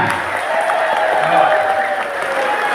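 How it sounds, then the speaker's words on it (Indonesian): A crowd at a community gathering in Kuningan claps loudly and steadily for the whole stretch, a dense even wash of applause with a voice faintly over it. "Saya mengajak semuanya tepuk tangan untuk semua yang ada di sini."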